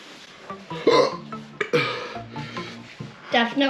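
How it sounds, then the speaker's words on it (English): Hiccups after a dab of Last Dab Carolina Reaper hot sauce, several short sharp catches spread across a few seconds, close and fairly loud, mixed with breathy vocal sounds. "Hiccups are just coming."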